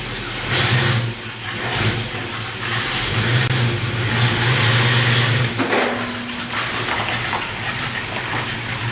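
A 1966 Ford Ranchero engine runs and revs as the truck creeps along, a rough, rumbling drone with broad rattling noise that swells and eases, heard nearby with no voices.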